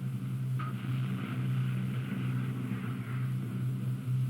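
Submarine engines run as the boat dives deeper in wartime naval footage, a steady low droning hum with a faint higher whine, constant and moderately loud, with no voices.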